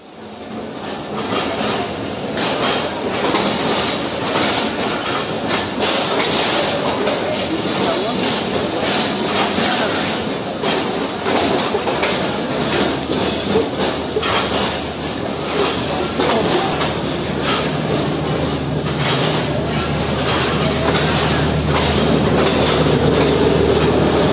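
Trains running past the platform at Rohri railway station, a continuous rumbling roar of rail cars with rhythmic clatter, close and loud, swelling toward the end.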